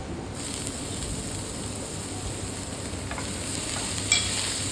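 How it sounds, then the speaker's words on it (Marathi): Ginger garlic paste fries in a pan with garlic while making green chili thecha, giving a steady, dense sizzle throughout with a faint stir or clink near the end. "आता त्यामध्ये टाकणार आहे मी थोडी आलं लसूण पेस्ट"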